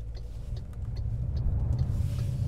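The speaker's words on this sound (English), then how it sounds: "You can hear the engine a little bit." An MG HS SUV pulls away from a standstill, its engine a steady low rumble that swells gradually as it builds speed, heard from inside the cabin with no talking.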